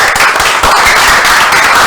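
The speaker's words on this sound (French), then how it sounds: "On va les applaudir très fort." A school event audience claps loudly for the third-place team, a dense burst of close, rapid handclaps filling the whole moment.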